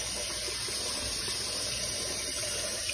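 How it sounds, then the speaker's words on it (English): Running tap water pours into a kitchen sink as hands are rinsed clean of breading while making chicken fingers, a steady, fairly loud wash of splashing with no voices. "And then I like to do one piece, and then wash my hands, get all the gunk off."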